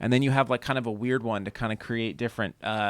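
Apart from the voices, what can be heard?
None of the usual background noises is heard.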